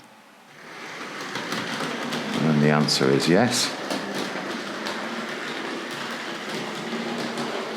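A Tri-ang Railways R.150 BR black B12 model locomotive running around its track, a steady rolling whir with rhythmic rail clicks, under a man's speech.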